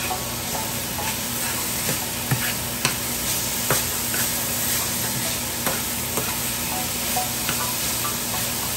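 Curry in a pan is stirred after its lid is lifted: a steady sizzle and hiss from the pan, broken by occasional scraping clicks of the spoon, close and moderately loud, with no talk.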